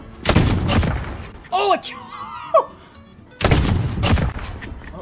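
Modern Warfare shooter combat brings loud close bursts of gunfire at the start and again near the end, with a voice talking briefly in the quieter middle stretch.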